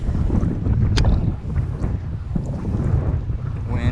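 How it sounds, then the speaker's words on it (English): Wind gusts across open water on the California Delta in summer, buffeting the microphone with a steady low roar around a fishing boat. "Wind is starting to kick up."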